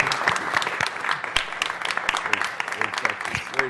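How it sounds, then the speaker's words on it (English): Applause in a city council chamber, a dense crowd of hands clapping with sharp individual claps standing out, continuous for nearly four seconds with some voices mixed in. "Let's give her a round of applause."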